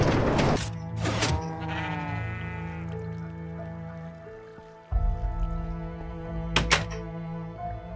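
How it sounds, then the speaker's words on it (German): Sheep in the video game Minecraft let out a couple of loud, wavering bleats near the start, followed by blocky thunks and game footsteps in a snowy area. "Und ich höre einen Schaf."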